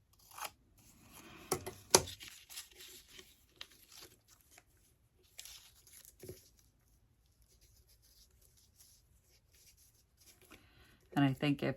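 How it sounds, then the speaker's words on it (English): Scissors snip paper close by to cut a piece out of its frame for a craft project, with scattered short cuts and rustling separated by quiet gaps, and a voice speaks briefly near the end. "I'm going to cut this out of its little frame here"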